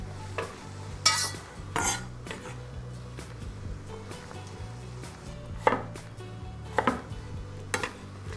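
About half a kilo of potatoes is chopped with a knife, a series of irregular crisp chops on a board spaced over several seconds, over a low steady hum.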